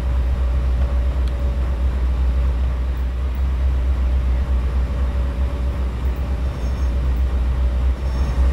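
A Norfolk Southern locomotive in the Trainz 2019 train simulator, on the Dry Brook & Eposus Valley railroad, gives a steady, loud, low diesel rumble that runs unbroken throughout with no talking.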